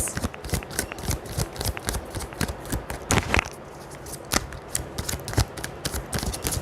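Tarot cards are shuffled up close in a rapid run of crisp riffles and flicks that repeat irregularly, with no voices.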